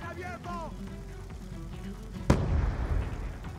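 A grenade goes off in Call of Duty Black Ops 2 as a sudden loud boom with a rumbling tail, following a stretch of talking and background game sound.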